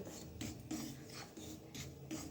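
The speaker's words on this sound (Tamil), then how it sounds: "மாவு சும்மா லைட்டாக சூடு பொறுக்க வறுத்தா போதும்" Homemade rice flour is dry-roasted in a pan and stirred, giving soft rhythmic scraping and rasping strokes about twice a second. The sound is close but quiet, with no talking.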